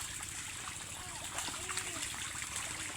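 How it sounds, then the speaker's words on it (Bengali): Domestic ducks swim and splash in water, heard as a continuous soft trickling and lapping wash with light splashes throughout, fairly faint and steady. "আজকে আমার হাঁসগুলাকে পানির মধ্যে নামাইছি, সবাই সাঁতার কাটতেছে"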